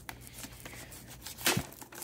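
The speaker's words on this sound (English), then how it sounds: "Let me get my handy-dandy knife here to cut this." A knife slices open the plastic wrap on a Pokemon Center Shrouded Fable Elite Trainer Box, making soft crinkling and then one brief, louder tearing rip close by.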